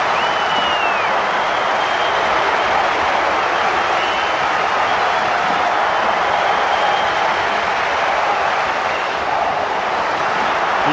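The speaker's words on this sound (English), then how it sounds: "He tried to shut out the crowd noise as he lines this kick up" Loud, constant roar of a stadium crowd at a Bulls v Blaze rugby league match, a dense wash of cheering noise throughout with no distinct voices.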